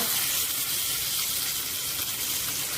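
Steady, hissing sizzle of cumin seeds, curry leaves and green chillies dropped into a ladleful of hot oil, a continuous bright crackle with no talking.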